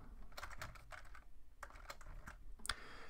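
Keys clatter on a computer keyboard while text is entered into a PowerPoint slide: a quick, irregular burst of clicks at close range followed by a few more scattered taps, with no talk.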